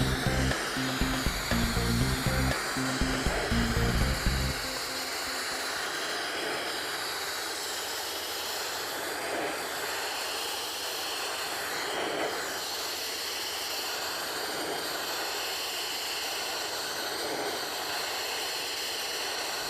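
Abrasive blasting of a grade C steel surface to a white metal finish gives a loud, steady roaring hiss, with a heavier pulsing burst at the start before settling into continuous spray.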